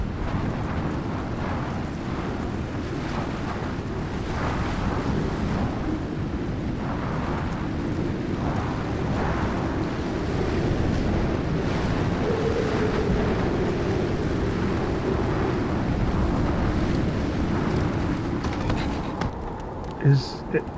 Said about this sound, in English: So, while the storm is raging, we're going to focus on maybe a couple of different things.